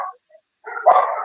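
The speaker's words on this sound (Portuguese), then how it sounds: "Os cachorros estão latindo" Dogs bark in short yelping bursts, one brief call at the start, a tiny yip, then a louder cluster of overlapping barks toward the end, heard somewhat distant and with no talking.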